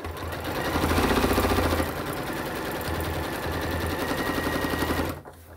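Sewing machine stitching a handbag lining, a fast even mechanical rattle close by running in two sustained bursts before stopping abruptly near the end.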